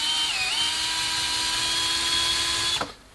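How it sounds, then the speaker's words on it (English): A power driver spins a 4mm bolt as it self-taps into a hole in a metal rack, giving a steady high whine that holds for about three seconds before cutting off abruptly. "A 4mm bolt inserted in the hole"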